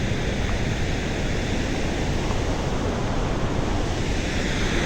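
Constant heavy roar of water pouring through the Marsyangdi hydropower dam, broadband and unvarying throughout, close and loud with no one speaking.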